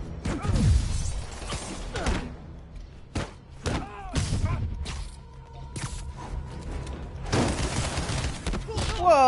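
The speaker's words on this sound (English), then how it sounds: "Rockets! They got rockets!" Rockets fire and explode in a Spider-Man video game fight against the Shocker, with several loud booming blasts and crashes spread through the clip, mixed with mechanical whooshes.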